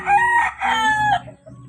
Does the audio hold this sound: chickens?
yes